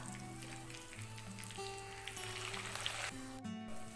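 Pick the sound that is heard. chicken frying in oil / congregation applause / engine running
chicken frying in oil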